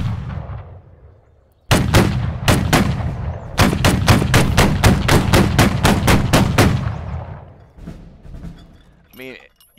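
A Gatling gun in the game Battle Cry of Freedom fires a rapid, evenly spaced string of loud, close shots in two bursts, with a booming echoing tail that fades into a quieter background.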